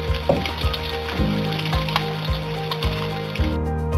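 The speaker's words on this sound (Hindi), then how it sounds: "लहसुन, अदरक और हरी मिर्च के पेस्ट को हम हल्का सा ब्राउन कर लेंगे।" Garlic, ginger and green chili paste frying in a karahi, a close, lively sizzle with regular clunks of a spoon stirring against the pan, no voices.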